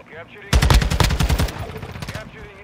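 A loud, close burst of rapid automatic gunfire in Call of Duty Modern Warfare II, a Control match on the Himmel map, cracking steadily for about a second before tapering into quieter fire.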